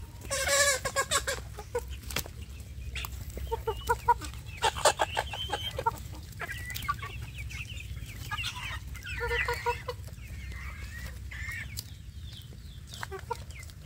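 Village chicks and hens cluck and peep in a free-range outdoor pen, with a steady chorus of short repeated calls, some close and loud, others farther off, over a low background hum.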